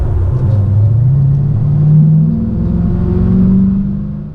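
A supercharged Mercedes E55 AMG engine revs steadily in a loud, droning rumble that rises and eases over several seconds, heard without any voices.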